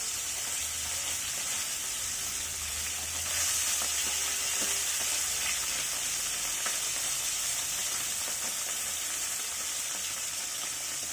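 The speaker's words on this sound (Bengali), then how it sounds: "একইভাবে অন্য সাইডটাও ফ্রাই করে নিব।" Tangra fish frying in hot oil in a pan, a steady dense crackling sizzle that runs unbroken throughout, close and fairly loud, with no voices.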